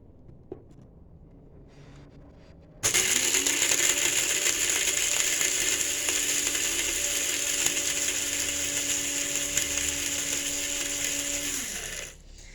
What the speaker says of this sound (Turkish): bu makine sert maddeleri öğütmek için yapılmış bir makinedir